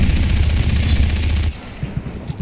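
Dense rapid automatic gunfire in the video game Just Cause 3, loud and close, a continuous burst that cuts off abruptly, followed by a few scattered faint pops.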